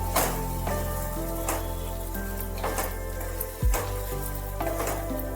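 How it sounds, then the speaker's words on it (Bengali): Fried spice mix is stirred into sizzling fish oil for a Bengali chachchari, with a steady hiss cut by regular scraping strokes of the spoon about once a second, over a tonal music bed. "মশলাটা দিয়ে ভালোভাবে একটু নাড়াচাড়া করে নিতে হবে"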